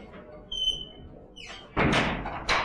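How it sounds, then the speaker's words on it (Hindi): A manually operated home entrance door is pushed shut, giving a couple of close, loud thumps and a latching clatter near the end, after a faint squeak and some rustling. "ये दरवाजा ऑटोमेटिक नहीं है जी, इसे बंद करना पड़ता है।"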